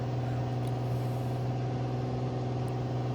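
A Piper PA-28 piston engine in Microsoft Flight Simulator 2020 runs steadily at takeoff power, a loud, constant droning hum with a strong low tone and no pauses or talk.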